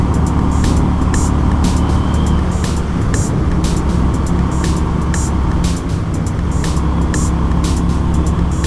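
A car drives steadily along a road, its tyres and engine making a loud, continuous rumble of road noise that fills the whole stretch without a break.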